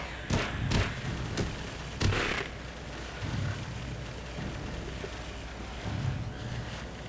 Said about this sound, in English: Now bash the grating